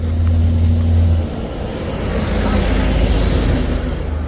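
A heavy trailer truck engine, a Hino, rumbles loudly close by climbing a steep hill, a deep steady drone that drops briefly then builds again as it labours.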